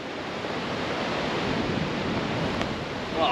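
Strong wind gust roaring across an open golf course in stormy weather, a steady broadband rush that stays loud throughout and swells slightly at the end.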